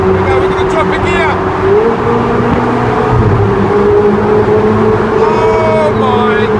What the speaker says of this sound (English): we're going to drop a gear